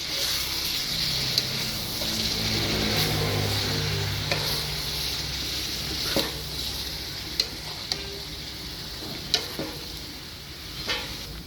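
Fried stingray with curry leaves, green chili and cabbage being stirred in a pan, a steady sizzle with scraping strokes and a few sharp clicks of the utensil against the pan.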